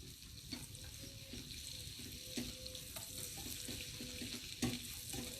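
Garlic and butter sizzle in a pan, a steady quiet crackle with occasional sharper pops and clinks of stirring throughout.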